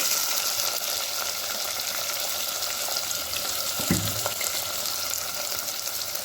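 Garlic and long-sliced onion frying in hot oil, a steady close sizzle throughout with a single soft clunk partway through and no voices.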